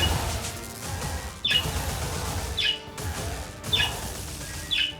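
Excited pet birds give a few short, high chirps in spaced bursts over a steady background hum, moderately close but not loud.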